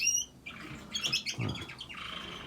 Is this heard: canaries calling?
yes